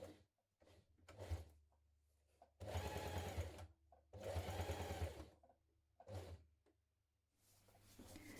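A sewing machine stitches the seam of a cross-body bag along a diagonal edge in several short bursts of rapid whirring, separated by quiet pauses and faint handling sounds.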